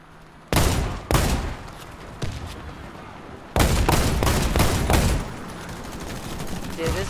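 Gunfire from a gun in the video game Warface: sharp single shots, then a sustained rapid burst of firing, all loud and close with brief quiet gaps between.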